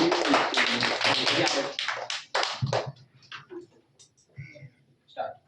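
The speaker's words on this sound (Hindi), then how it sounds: "ताली बजाइए।" An audience at a Sunday performance class claps to welcome a child to the stage: a brisk, dense round of applause that thins out after about three seconds into a few scattered claps and quiet voices.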